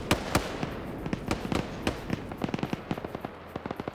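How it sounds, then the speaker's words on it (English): Rapid bursts of heavy .50 cal machine-gun fire in a video game tear into a BRDM armored vehicle, sharp cracks arriving in uneven clusters that quicken into a dense rattle toward the end, with no talk. "the 50 cal managed to flame out and to take out the BRDM"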